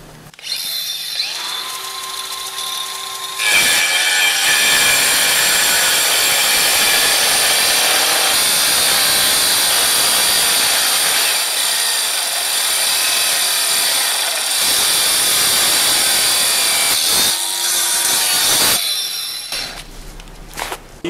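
A Diablo carbide-tipped thick metal blade grinds through a steel culvert in one long, loud, steady cut lasting most of the stretch, with brief spin-up and spin-down whines at either end.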